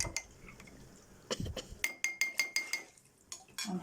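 Metal utensil clinks and taps against a pan while food with black pepper is stirred, a steady run of sharp, bright knocks in quick succession, close and fairly loud, with softer scraping between.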